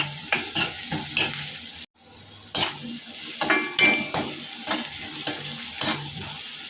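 Garlic and green chillies fry in a pan with steady sizzle, while a spoon repeatedly scrapes and clinks against the metal in an uneven rhythm, close and fairly loud, with no talking.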